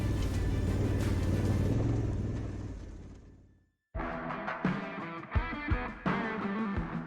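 A heavily laden Nissan Navara pickup truck hauling a loaded trailer up a steep climb, its engine droning loud and close, then cutting out briefly before rumbling back with uneven surges and knocks.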